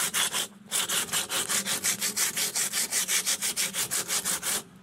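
Sanding filler off the hull of a 1986 Sea Ray boat, heard up close as fast, even back-and-forth rasping strokes, about five per second, that continue with only a brief pause near the start.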